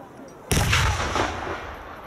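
A single loud cannon or firearm blast at a battle reenactment in Wavre cracks sharply out of quiet ambience, then rumbles and decays slowly across the field over the next second and a half.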